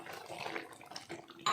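Water poured into a pan of simmering mushroom gravy in a home kitchen, a soft splashing trickle lasting about a second and a half, ending with a brighter sharp splash.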